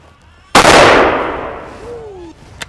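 A single loud, close gunshot from a bolt-action rifle firing a 450-grain hollow point in a large-game caliber. The sharp blast decays over about two seconds of rumbling reverb, with a faint ringing tone and a small knock near the end.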